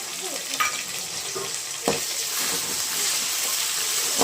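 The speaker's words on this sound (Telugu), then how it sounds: "అల్లం వెల్లుల్లి పేస్ట్ వేసిన తర్వాత పచ్చి వాసన పోయేంత వరకు వేయించుకోవాలి" Ginger garlic paste frying in a pan, giving a steady bright sizzle and hiss, with a sharper spatter as it is stirred partway through, then a constant frying sound.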